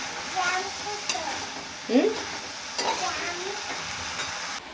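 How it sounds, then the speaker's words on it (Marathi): Potato vegetable for a dry sabzi sizzles in oil over a high flame, a steady close fry with a few soft stir scrapes and light clatters. "आता ही भाजी हाय फ्लेमवरतीच मी छान तेलामध्ये परतून घेते"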